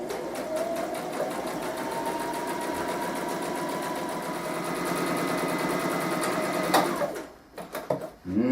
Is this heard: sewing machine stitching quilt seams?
yes